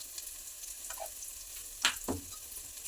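Onions and green chilies fry in a pan with a faint, steady sizzle, broken by a couple of short scraping stir sounds near the middle.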